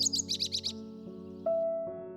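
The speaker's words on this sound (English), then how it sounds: "Sparrow. Sparrows clean by tossing soil over their feathers." A sparrow gives a quick run of five or six bright, close chirps, then stops while a soft sustained musical tone with gentle note changes continues underneath.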